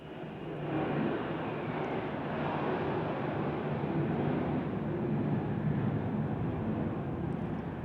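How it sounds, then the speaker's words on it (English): A fighter jet on a practice flight over San Diego roars as a broad, steady rumble that builds within the first second and holds at an even level throughout, distant rather than close, with no talk over it. "that sound that you heard in the background was a fighter jet that's practicing"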